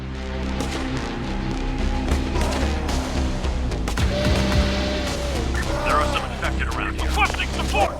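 Gunfire and combat sounds from the zombie strategy video game Infection Free Zone, set in Mogadishu, Somalia; scattered shots and impacts play under a steady low game soundtrack, with faint voices and bird-like calls.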